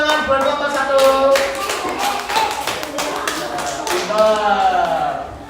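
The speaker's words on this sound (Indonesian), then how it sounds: "beri tepuk tangan buat kelompok 1" An Indonesian school class claps together for a group of pupils, a rapid run of close claps heard over a teacher's ongoing voice and children's chatter.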